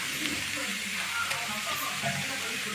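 An onion dosa cooking on a hot pan gives off a steady, even sizzle, close and continuous with soft crackles and faint stirring, and a quiet voice talks in the background.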